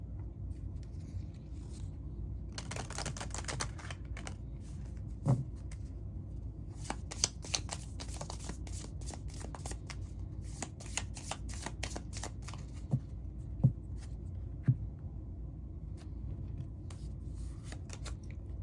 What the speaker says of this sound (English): let's get you some cards from the Witch's Runic Familiar Oracle